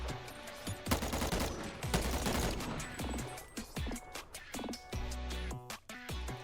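A gun fires in the Bonelab video game, with sharp shots in irregular bursts and singles, close and moderately loud. Metallic clicks and handling noises fall between the shots, and no one speaks.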